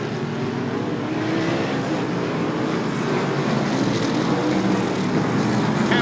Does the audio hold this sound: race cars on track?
yes